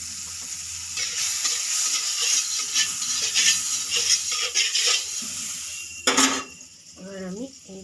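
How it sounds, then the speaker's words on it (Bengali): Broccoli, lightly boiled in salted water, sautéing in butter in a pan: a steady close sizzle under scraping stirs and utensil clinks against the pan, with a louder clatter near the end. "এবার বাটার দিয়ে আমি ব্রোকলিটা একটু সতে করে নেব।"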